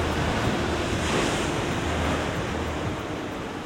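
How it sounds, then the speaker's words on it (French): Ocean waves surge and crash continuously onto the shore of a large seal colony, a loud, dense roar of surf mixed with wind rumble and no voices. "les adultes font front face à la force des vagues"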